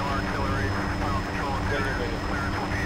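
A helicopter in ArmA 2 keeps up a continuous, loud, rumbling rotor and engine drone with a faint steady whine, and voices come through underneath.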